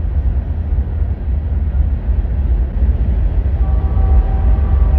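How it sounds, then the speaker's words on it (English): A train rolls past on the railroad, a loud, continuous low rumble and rattle of cars close by with a faint tonal squeal near the end, no voices. "there's the railroad rolling by"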